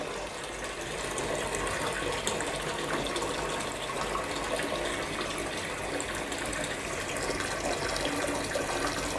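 Steady broadband rush of water pouring from both the acidic and alkaline outlet pipes of an SD501 electrolysed water machine, continuous and fairly close, with no talk.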